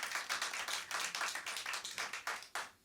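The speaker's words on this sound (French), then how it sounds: "on peut l'applaudir" A small audience claps for a Celtic harp player, a fairly quiet but dense patter of hands with a steady rhythm that fades slightly toward the end.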